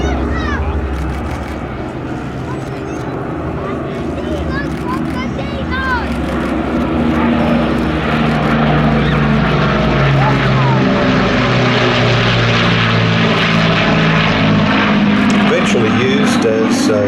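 A World War II Avro Lancaster bomber flies a display at the Midlands Air Festival, its four propeller engines giving a loud, continuous droning roar that swells steadily while a commentator talks over it.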